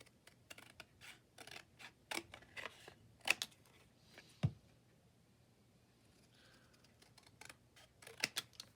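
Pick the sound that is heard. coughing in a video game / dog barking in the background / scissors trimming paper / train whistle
scissors trimming paper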